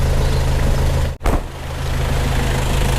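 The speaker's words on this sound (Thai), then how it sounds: "เสียงเครื่องยนต์นุ่มนวลครับรถก็ไม่มีพ่นไม่มีไอนะ" A Nissan Big-M pickup truck engine idles with a steady low rumble, briefly interrupted by a short dropout before the smooth hum resumes.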